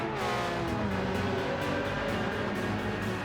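Ferrari race cars at Monza in a video game, engines screaming at high revs close up with rhythmic gear-shift pulses as they brake toward the chicane, loud and continuous.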